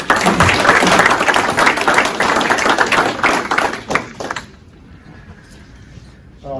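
Sustained applause from a crowd at a ceremony for about four seconds, then it fades quickly into near quiet.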